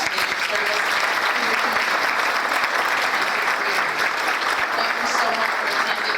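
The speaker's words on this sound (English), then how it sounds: "If we could give them an applause for that service." Sustained, loud applause from a crowd at an awards breakfast, dense and even throughout with a faint murmur of voices underneath.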